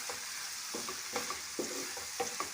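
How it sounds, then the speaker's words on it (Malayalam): Okra (lady's finger) frying in oil with turmeric, stirred with a spoon: steady close sizzle of hot oil broken by several soft scraping stir strokes in an uneven rhythm, with no voices. "കുറച്ച് മഞ്ഞൾപ്പൊടി, നന്നായിട്ട് ഇളക്കി കൊടുക്കാം."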